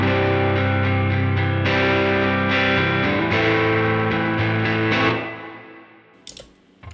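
Electric guitar played through a Minotaur overdrive and an HX Stomp with Searchlights reverb, a steady run of driven chords ringing for about five seconds before decaying into a reverb tail, with a faint click near the end.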